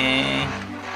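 A Lamborghini's engine hums with a steady harmonic drone in the Free Fire video game, loud at first and then easing to a lower, quieter tone over one second, with no talking.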